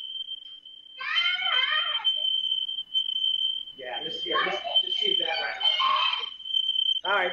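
A smoke detector sounds indoors with a continuous high-pitched electronic tone that runs throughout, while several people talk and cheer over it.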